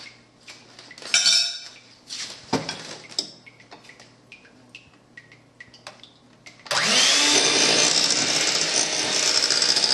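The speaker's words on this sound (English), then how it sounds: "now I'm going to add it to my egg whites and whisk it in pretty slowly" Cornstarch mixture being whisked into egg whites for a coconut meringue pie: a whisk clinks and taps against the bowl in scattered strokes, then a loud, steady mixer whir takes over and runs to the end.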